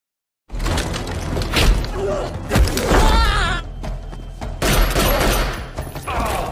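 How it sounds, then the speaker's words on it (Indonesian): Gunfire exchange in an action film, dense bursts of loud shots and thuds mixed with impacts and score, continuous and close after a brief silent start. "Ia pun kembali terlibat baku tembak"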